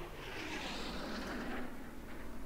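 A jet aircraft in a Battlefield multiplayer match sweeps past with a steady, loud roaring whoosh that holds for the whole moment, with no voices over it.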